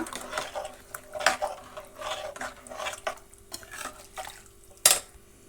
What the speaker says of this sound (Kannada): ಈಗ ತೆಗೆದಿಟ್ಕೊಂಡಿರುವಂಥ ನೀರನ್ನೆಲ್ಲ ನಾನು ಅದಕ್ಕೆ ಹಾಕ್ತಿದ್ದೀನಿ ನೀಟಾಗಿ ಕಲಿಸ್ಬಿಡೋಣ